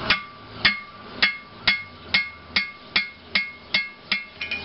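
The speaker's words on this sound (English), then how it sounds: "Get that little hammer." Small hammer striking steel while knocking out a gib key on an IHC engine, about a dozen sharp metallic blows at a steady rhythm, close and loud with no talk.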